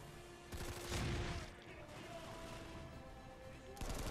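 Gunfire in the online shooter Planetside 2, a steady mix of distant and mid-range weapon fire and explosions during a battle over a facility, continuing throughout.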